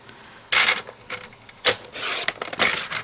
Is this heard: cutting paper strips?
yes